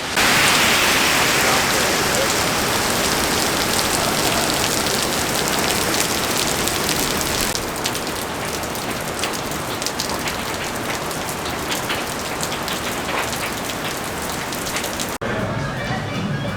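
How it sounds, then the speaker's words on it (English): Heavy pouring rain in Chicago hisses steadily and loudly throughout, a dense, close wash of falling water that shifts slightly in tone near the end. "in the pouring rain, we made it to a Portillo's"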